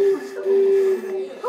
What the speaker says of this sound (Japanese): 空き缶でフクロウの笛を作りました。